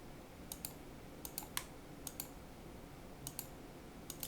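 Sharp mouse clicks in Photoshop while a selection is being made, about ten distinct taps in small pairs and singles over a faint steady room hiss, no voices.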